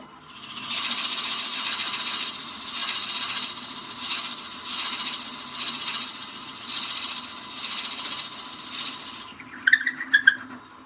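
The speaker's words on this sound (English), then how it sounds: "I'm going to turn the lathe down to 500, and I don't have very much to hollow out here, so probably bury the bit into here" Wood lathe turning at 500 rpm while a 1-inch Forstner bit hollows wood for a baby rattle, a rhythmic rasping grind that pulses in even waves, then a few sharp clicks and scrapes near the end.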